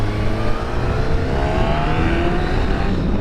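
A Yamaha YZF1000R motorcycle pulls hard in third gear, its engine note rising steadily under strong wind rush, loud and close throughout.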